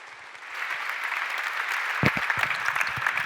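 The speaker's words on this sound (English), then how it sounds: "join me in applauding as a vote of thanks to Ashok" An audience at a STEAM Co. creative-education event with Barclays breaks into steady applause after half a second of quiet, holding a dense, even roar with a few sharper claps near the end.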